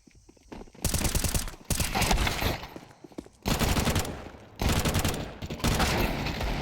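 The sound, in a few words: pistol gunfire in Counter-Strike 2 video game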